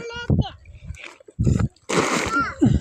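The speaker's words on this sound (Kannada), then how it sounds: "ಅದೆಷ್ಟು ನೀರು ಬರ್ತಾವ ಬರ್ರಿ." Water rushes and splashes in a farm field, a bright gushing burst mid-clip amid shorter splashes, with people talking and a voice nearby.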